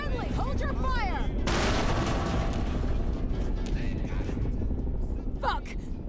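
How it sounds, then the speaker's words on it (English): Heavy gunfire erupts in the game Fallout New Vegas, a loud sustained barrage rumbling under shouting voices, starting suddenly after a short stretch of talk. "Shooting at! We're friendly! Hold your fire!"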